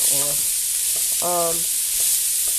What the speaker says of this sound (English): we're going to add our carrots and mix that in